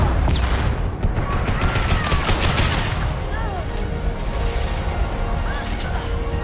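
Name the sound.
gunfire in Mass Effect 2 video game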